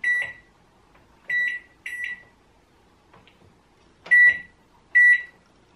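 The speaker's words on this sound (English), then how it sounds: "Oh, and this is a microwave, isn't it?" A microwave oven gives five loud, close electronic beeps in an uneven rhythm, with quiet gaps between them and no talking.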